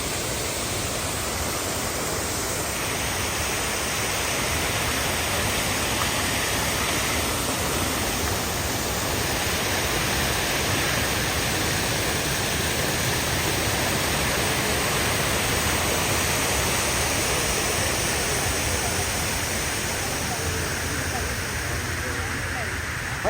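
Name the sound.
waterfall at Sharjah Hanging Garden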